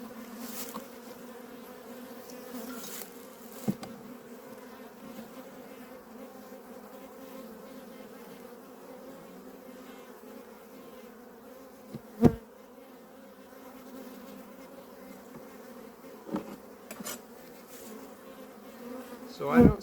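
Honeybees buzz steadily around an opened hive whose lid carries fresh comb, a dense continuous drone close by with a few brief knocks and handling sounds, no talking.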